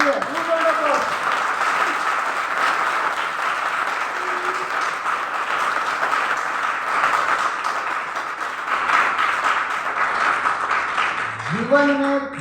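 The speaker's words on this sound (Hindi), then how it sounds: "तो एक जोरदार ताली गांधी जी के लिए" An audience bursts into loud, sustained applause for Gandhi at a motivational talk. The dense clapping runs steadily throughout, with a voice heard briefly at the start and again at the end.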